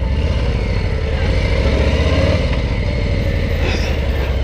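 A motorcycle rides through traffic with a steady, loud, close engine rumble and rushing noise, and no one speaks.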